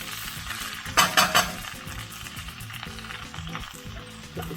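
Prawns, mussels and garlic sizzle and fry in a pan, a steady close crackle broken by a few louder stirring scrapes near the start and light utensil clinks throughout.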